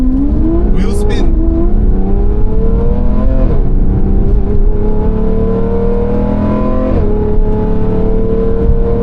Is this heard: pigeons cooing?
no